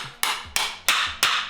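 Four sharp metallic hammer strikes on a fork part of a Giant Reign E+ Pro 2 e-bike, in an even rhythm, each ringing briefly before the next blow, close and loud.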